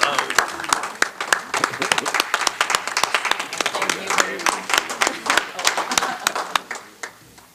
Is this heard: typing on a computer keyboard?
no